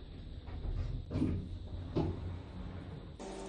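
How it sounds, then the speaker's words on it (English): Elevator doors sliding shut on a KONE Delta SlimLine lift in Roblox, heard as a few soft mechanical thuds and rumbles close by, with a short chime-like tone near the end. "Doors closing."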